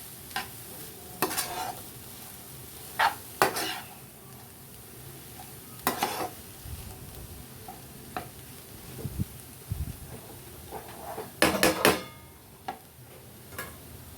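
Cabbage poriyal being stirred in a pan over a low flame, with sharp scraping clicks of the spoon against the pan at irregular intervals over a faint, steady sizzle; no voices.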